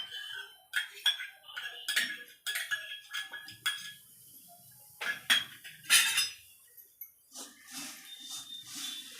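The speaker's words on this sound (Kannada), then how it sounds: "ಕೊನೆಯದಾಗಿ ರೆಡ್ ಚಿಲ್ಲಿ ಸಾಸ್ ಇಟ್ಕೊಂಡಿದ್ನಲ್ಲ, ಅದು ಹಾಕ್ಬಿಟ್ಟು ಮಿಕ್ಸ್ ಮಾಡ್ತೀನಿ ನೋಡಿ." Crunchy Maggi bhel being tossed and mixed with red chilli sauce and masala in a bowl, giving close, sharp clinks and rustling crunches in irregular bursts, with quieter pauses between strokes and no talking.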